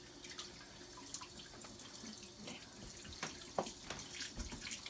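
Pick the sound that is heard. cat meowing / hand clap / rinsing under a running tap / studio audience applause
rinsing under a running tap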